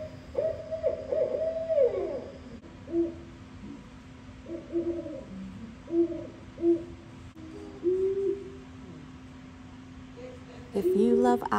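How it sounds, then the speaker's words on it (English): Owls call in a series of hooting notes spaced a second or two apart, fairly close, over a steady low hum, with a brief burst of other sound at the end. "we'd learn a whole lot about owls, especially the calls"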